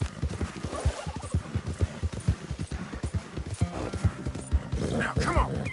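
A horse galloping in Red Dead Redemption 2 after a rider's command, with rapid rhythmic hoofbeats close by, a brief whinny near the end and some voice mixed in.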